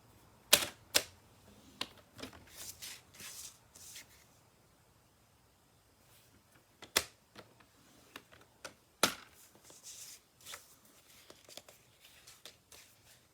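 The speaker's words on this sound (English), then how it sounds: "I'm putting the paper on that 1-inch mark, and I'm just going to score all around on 4 sides" Paper gets scored along a measured one-inch line while making a hinged box, sharp scratchy strokes and clicks in irregular bursts with a quiet pause midway, close and fairly faint.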